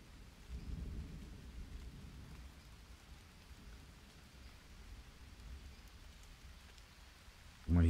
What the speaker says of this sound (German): es ist nur Donner